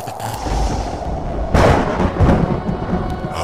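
A thunder strike sound effect in a Ghanaian drama, a loud rumbling boom bursting in around the middle over a dense, noisy background, followed by a second rolling swell before fading back.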